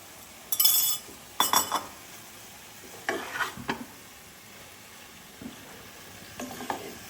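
Fried kachki fish and onion greens being stirred in a pan, giving several separate bursts of scraping and clinking over a low, steady sizzle, with no talking.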